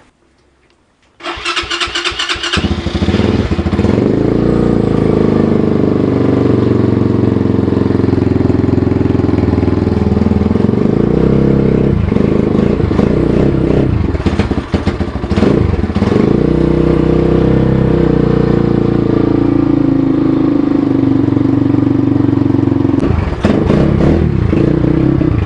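A Vitacci Apollo DB36 supermoto motorcycle engine cranks and catches after a moment of quiet, then settles into a loud, close, steady idle with slight revs and fluctuations throughout.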